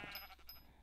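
A sheep bleats in the Minecraft video game, a short faint wavering baa heard alone.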